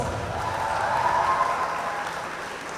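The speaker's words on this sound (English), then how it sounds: "Give them a huge round of applause" Audience applause after a dance performance at a college dance event, a broad continuous wash of clapping with a tonal hum or music lingering beneath it.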